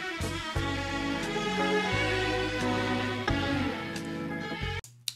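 Strings sampled from one channel of a record play a sustained, layered passage with shifting low notes, loud and continuous, before cutting off abruptly near the end.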